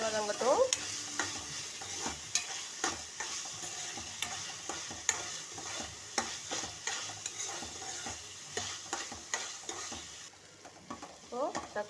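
Tomatoes fry with salt in a pan for kovakkai thokku while a spoon stirs them, giving a sizzling hiss broken by repeated scraping strokes and light clinks, close up and with no one speaking.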